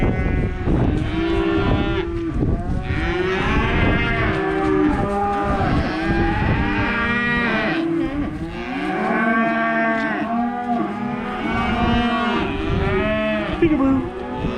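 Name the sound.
heifer mooing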